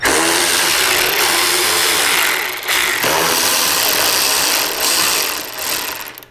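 A power tool loosens Torx 30 bolts beneath the speaker grilles on a motorcycle fairing, a loud, sustained buzzing whir that runs in long bursts with brief dips between them.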